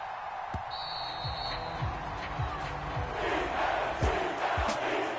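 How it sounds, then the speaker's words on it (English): A home crowd at an arena applauds and cheers after a basketball win, a broad roar that builds toward the end, with sharp squeaks and thumps cutting through the noise. "And the home crowd applauding."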